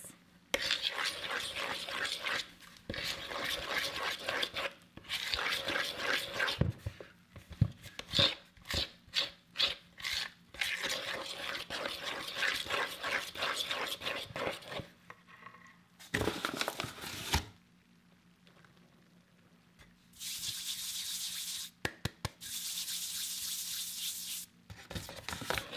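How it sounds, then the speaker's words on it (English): A spatula or hand scrapes the sides of a bowl of sticky bread dough, close and intimate, in repeated bursts of rough scraping and wet tearing with a few quiet pauses between. "Scrape the sides of the bowl like this."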